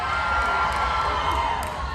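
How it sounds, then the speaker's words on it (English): Large crowd at VidCon 2023 cheering and shouting steadily, a dense, close roar of voices with occasional higher whoops. "You got a big crowd here."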